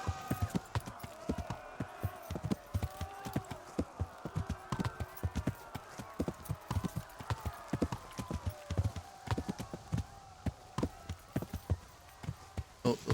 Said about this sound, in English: Oh, there's more horses there.